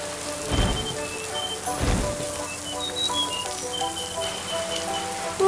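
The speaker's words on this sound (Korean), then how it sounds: "어째 비가 더 오는 것 같은데?" Steady rain falls on a mountainside campsite, a dense even patter throughout with two heavier low thuds early on, and faint bird calls over the top.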